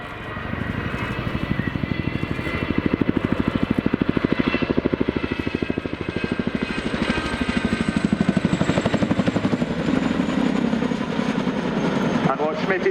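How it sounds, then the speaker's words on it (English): An RAF Boeing Chinook helicopter flies an airshow display, its loud, steady rotor throb pulsing continuously under a commentator's voice. "he's pitching the nose forward to make sure that Chinook's coming down again"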